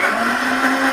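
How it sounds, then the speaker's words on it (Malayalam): A kitchen mixer grinder whirs loudly as it grinds ginger, garlic and green chili, one steady high-pitched motor whine running for about a second before it stops abruptly. "ഇഞ്ചി, വെളുത്തുള്ളി, പച്ചമുളക് ഇതൊന്ന് ചെറുതായിട്ട് നമുക്കൊന്ന് മിക്സിയിൽ അരച്ചെടുക്കണേ"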